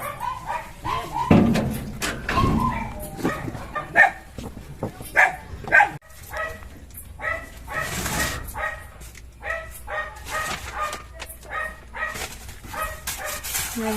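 A pet dog named Gigs barks and whimpers in short bursts at close range on a cold night, with people talking quietly around it.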